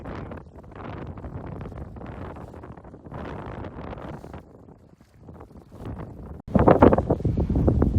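Wind gusting across a microphone on a rainy public-land duck hunt, a rough, roaring rumble that swells and dips throughout and grows louder near the end.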